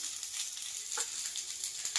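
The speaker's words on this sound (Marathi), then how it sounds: "याला असं मस्त पैकी फ्राय होऊन देणार आहे" Chopped onion and green chili sizzle steadily in hot oil in a pan, a close, continuous frying hiss with faint crackles and a brief stirring scrape.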